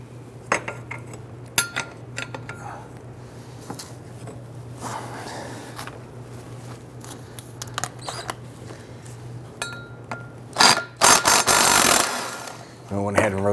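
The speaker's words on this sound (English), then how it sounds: "rotate our drive shaft so we can go ahead and get our wrench on our next bolt" Wrench work on the driveshaft support bearing bolts under a 2005-2010 Chrysler 300: scattered metallic clicks, taps and ratcheting clatter, with a louder cluster of scraping and clanking near the end; someone talks between the sounds.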